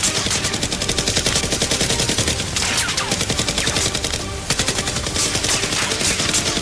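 Nerf guns fire in a mock fight, a dense and continuous rattle of rapid shots that carries through the whole stretch without a pause.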